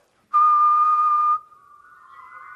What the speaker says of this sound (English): we're going to have group whistling